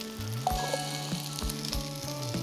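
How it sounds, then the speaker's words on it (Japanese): Gyoza crackle and sizzle in a hot frying pan as their water boils off, steady popping and spitting close by, with no talking. "今もうパチパチいってるんですけど"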